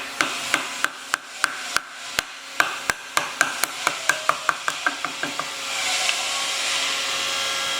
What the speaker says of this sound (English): I'm taking small amounts off and gentle taps.